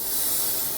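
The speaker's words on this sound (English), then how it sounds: "I'm going to spray it with brake parts cleaner" Brake parts cleaner sprays from an aerosol can onto the rear brakes of a Dodge Grand Caravan, a steady close hiss lasting under a second.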